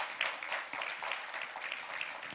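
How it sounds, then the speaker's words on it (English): Faint, thin applause rises from an audience at a fintech challenge semi-final event, scattered claps blending into a soft continuous wash heard at a distance. "Please give them a round of applause"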